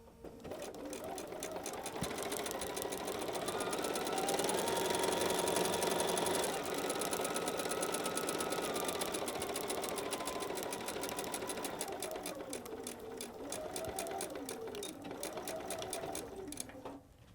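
A sewing machine stitches fabric for foundation paper piecing, a steady close whir running without a break and rising and easing slightly in speed, with no voices.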